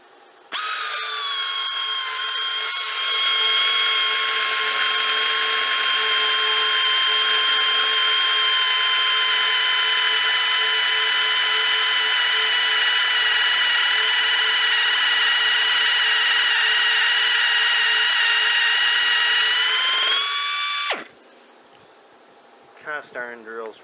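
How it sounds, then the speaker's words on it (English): A drill bores steadily into the cast iron nose cone of a 1943 Ford 2N tractor, a loud sustained whine holding for about twenty seconds before cutting off, followed by a few short clanks. "we're finally drilling down to final drill hole"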